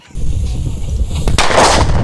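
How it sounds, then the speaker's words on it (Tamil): A homemade native firecracker (naatu vedi) set off outdoors during a cracker test goes off with a loud, sustained roar, and a sharp, close blast cracks through the middle. "இதில் ஒரு வெடியை மட்டும் நம்ம டெஸ்ட் பண்ணிக்கலாம்"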